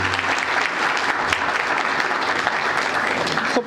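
An audience at a poetry and music evening claps loudly and steadily, a dense sustained round of applause lasting several seconds before fading at the end.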